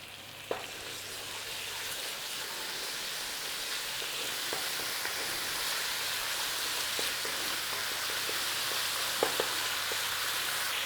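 Garlic and ginger frying in ghee for a beef curry, a steady close sizzle with faint crackles and occasional utensil taps throughout, no talk.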